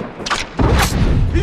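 A grenade explodes in The Last of Us multiplayer, a loud boom bursting out after a short burst of gunfire and a shout, then a heavy rumbling tail close by.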